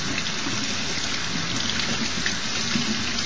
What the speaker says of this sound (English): So we're going to turn our water on, and basically just make sure the water stream goes to the middle of the crab.